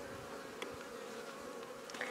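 A steady, dense drone of honeybees swarming around a backyard beehive, close and continuous for the whole clip, with no voices.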